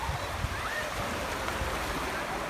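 Sea waves washing onto the Crimean shore in winter, a steady broadband wash of surf with some wind rumble, continuous and fairly close, with no talking.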